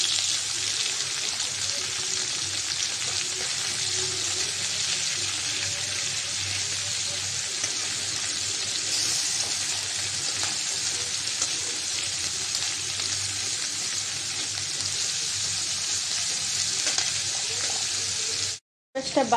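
Shrimp sizzling in oil in a kadai, a constant bright hiss that carries on for a long stretch while the pieces are turned, broken by a brief cut near the end.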